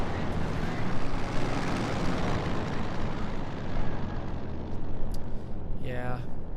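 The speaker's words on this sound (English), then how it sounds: "So the planes are a lot louder than everything else." Warplanes fly overhead in the video game Company of Heroes, making a loud, continuous roaring drone that dominates the mix from start to finish, with a short vocal sound near the end.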